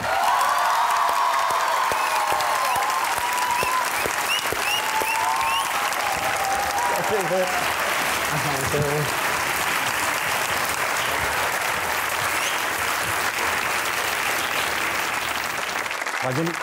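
Studio audience applause rises to welcome two wrestler guests, Inam Butt and Zaman Anwar, onto a comedy talk show; dense, steady clapping fills the room throughout, with a host's voice heard faintly over it.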